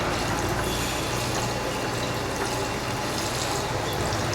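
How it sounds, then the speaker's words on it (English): A Tiger airless paint pump flushes water out of its line into a waste bucket, producing a steady, loud rushing stream with a low mechanical hum underneath, continuous throughout and free of talk. "I'm going to continue flushing until what's coming out here is nice, clear water."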